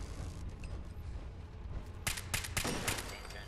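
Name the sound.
gunfire from a gun in video game Fallout 4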